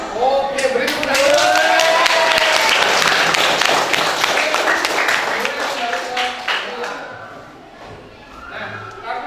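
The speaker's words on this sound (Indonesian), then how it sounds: "beri tepuk tangan" A classroom full of students claps together loudly for several seconds, with cheering voices mixed in before the applause tapers off.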